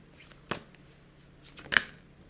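Tarot cards are handled and drawn, giving two sharp, brief riffling snaps about a second apart over quiet room tone, with no voice.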